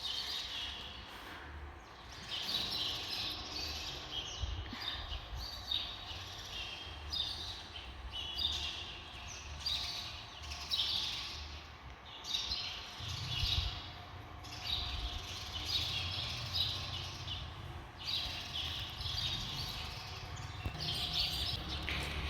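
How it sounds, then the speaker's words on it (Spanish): Birds chirp and sing in repeated bright bursts throughout, steady and moderately close, over a low background rumble with no talking. "No sé si ustedes llegan a escuchar el canto de los pájaros."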